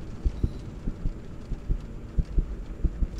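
A loud, steady heartbeat from the horror game Five Nights at Freddy's 3D, bedroom chapter: deep paired thumps repeating in a regular rhythm over a low hum, with no voices.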